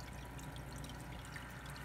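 Aquarium tank water poured steadily onto a mystery snail egg hatchery, giving a continuous close splashing trickle throughout, with no voices.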